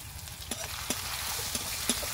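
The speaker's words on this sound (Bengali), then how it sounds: "খুব সুন্দর হয়ে কিন্তু ফোড়নটা ফুটে উঠেছে।" Cumin, sesame seeds, grated ginger and chopped green chilli sizzle in hot oil as a tempering, a soft steady hiss with faint, sparse pops and crackles, heard close by.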